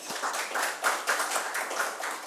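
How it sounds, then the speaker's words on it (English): An audience at a mentoring talk event gives a speaker a round of applause, dense steady clapping from many hands filling the room throughout, fairly loud and close. "I want all of you to give a big round of applause to our first speaker"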